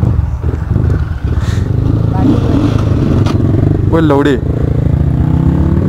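Honda CRF X 250 and Suzuki RM250 dirt bike engines rumble loudly and steadily throughout, with rising revs and some clatter, while people shout and talk over the engine noise.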